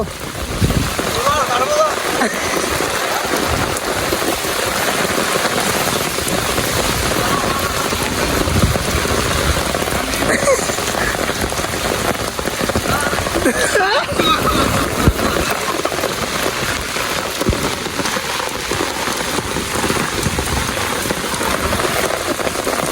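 Heavy rain pours down during a flood at night, a dense continuous hiss of water on surfaces mixed with wind and rushing water, loud and unbroken, with a voice talking over it.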